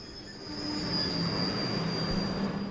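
A train in the video game Trails of Cold Steel pulls into a station, its wheels squealing in a thin steady whine above a low rolling rumble that swells and then holds.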